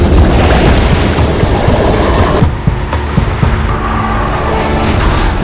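Japanese warplanes roaring over Pearl Harbor, a loud, dense rumble of aircraft engines with low booming undertones, steady and continuous throughout.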